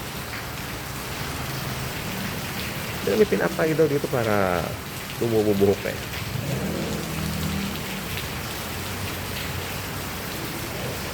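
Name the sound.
heavy rain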